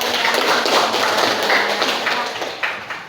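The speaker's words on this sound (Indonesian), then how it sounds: "Oke, tepuk tangan untuk kalian." Students in a classroom clap their hands together in a brief burst of applause, many dense overlapping claps fading toward the end, with faint voices in the room.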